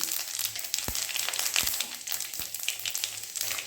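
Dried red chillies and five-spice seeds dropped into hot mustard oil for mango pickle, a close, steady crackling sizzle with sharp pops and spits throughout.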